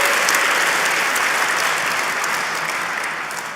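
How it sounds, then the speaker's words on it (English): Audience at an awards ceremony breaks into sustained applause after a category is announced, a dense, loud wash of clapping that holds steady and fades slightly at the end. "All right, round of applause for that category."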